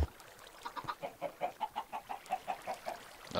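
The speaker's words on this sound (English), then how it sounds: "There's all chickens all over the freaking place." Chickens in the Minecraft Skyblock game cluck in a steady run of short, evenly spaced calls, moderately loud and unaccompanied by talk.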